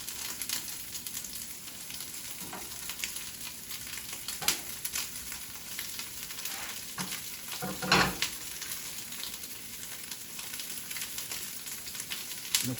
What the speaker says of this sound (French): je peux cuire les petits portions aussi dedans